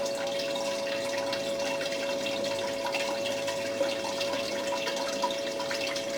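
Water flowing steadily through a blue bowl gold concentrator, a continuous close trickle and splash with a faint constant tone underneath, no voices.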